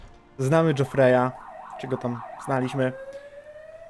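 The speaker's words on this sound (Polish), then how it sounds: "sorry za syrenę za oknem, ale coś, jakaś karetka jedzie chyba" An ambulance siren passes outside a window, a wavering wail that rises and falls between and under a man's speech and then fades away.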